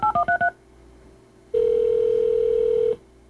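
A telephone being dialed for a long-distance call: a quick run of five touch-tone beeps, a short quiet pause, then a steady dial tone holding for over a second before cutting off.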